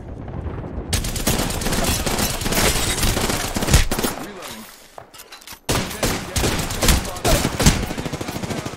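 Rapid bursts of automatic fire from the new Havoc assault rifle in the Apex Legends video game, loud and dense for most of the stretch with a brief lull near the middle before shooting resumes.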